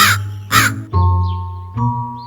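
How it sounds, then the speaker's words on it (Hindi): A crow in a children's animated story gives two loud, harsh caws close by. A brief tonal chime-like sound follows, with no talking. "प्यासा कौवा।"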